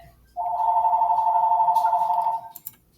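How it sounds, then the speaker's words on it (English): A single long electronic telephone ring, loud and steady for about two seconds in a quiet room, ending with a couple of soft clicks. "I apologize for the phone ringing at this point."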